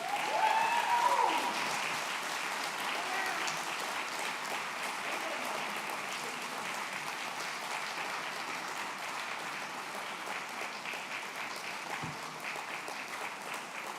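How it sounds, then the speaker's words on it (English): Sustained applause from an audience at a community center gala honoring award recipients, a dense steady wash of clapping that stays loud and even for the full length with a brief voice or whistle near the start. "Let's give another round of applause to our Hallie's heroes."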